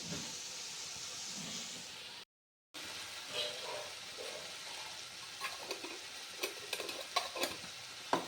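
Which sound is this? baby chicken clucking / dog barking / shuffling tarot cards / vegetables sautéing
vegetables sautéing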